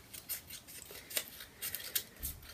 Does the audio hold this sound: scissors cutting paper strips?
yes